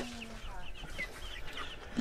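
Young chicks on a small sustainable farm, soft clucks and peeps scattered over a quiet background, fairly close, with no talking.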